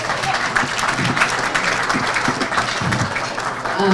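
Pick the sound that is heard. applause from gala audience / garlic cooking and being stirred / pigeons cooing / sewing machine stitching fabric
applause from gala audience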